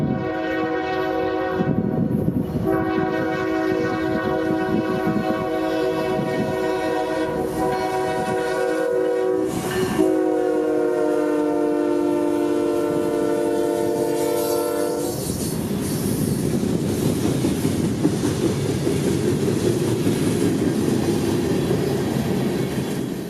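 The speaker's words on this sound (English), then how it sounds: "this is M606, our surprise southbound freight heading towards" Southbound M606 freight train rolling past a road crossing in central Georgia, its horn blaring in long sustained chords over the rumble of the cars, then fading into steady heavy wheel and rail roar.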